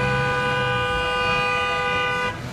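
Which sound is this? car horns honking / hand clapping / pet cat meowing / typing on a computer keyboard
car horns honking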